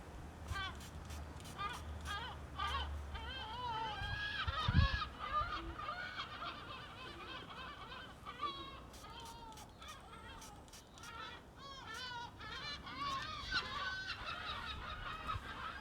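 Seagulls call repeatedly overhead inland during rough weather, harsh squawking cries coming in clusters, with a person talking at times underneath.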